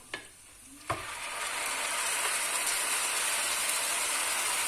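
Chicken and vegetable noodles are stir-fried in a pan. Two sharp utensil clacks are followed by a rising, steady sizzle and hiss that continues to the end.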